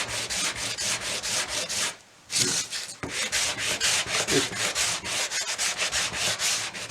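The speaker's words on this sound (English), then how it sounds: "I just have to give it a light sanding on the surface" Rhythmic back-and-forth rubbing of sandpaper on wood, close and steady, with one brief pause partway through.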